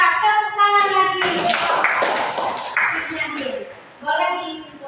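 Students in a classroom clap for a presenting group, a burst of applause lasting a few seconds between stretches of speech.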